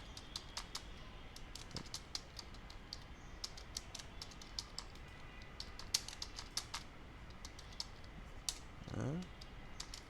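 Quiet, steady clicking of a computer keyboard as a company name is typed into a spreadsheet, light keystrokes in short irregular bursts with a brief faint creak near the end.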